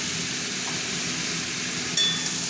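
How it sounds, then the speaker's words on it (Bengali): Prawns, tomato and potato fry together in a pan with a steady, moderate sizzle and hiss, marked by one brief utensil clink near the end, and no one speaking. "এবার কিছুক্ষণ এটা ভাজবো একসঙ্গে"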